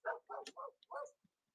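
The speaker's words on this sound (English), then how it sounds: "Why are we barking?" Dogs barking outside, a quick burst of four or five faint, distant barks followed by a short yip, heard on their own.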